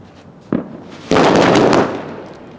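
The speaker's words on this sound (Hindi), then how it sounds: "ये थी नॉर्मल लड़ी दिवाली की जो सब चलाते हैं, बिजली बम वाली" A normal Diwali firecracker string goes off nearby: a single sharp pop, then a dense, loud, rapid burst of crackling bangs that lasts about a second and fades.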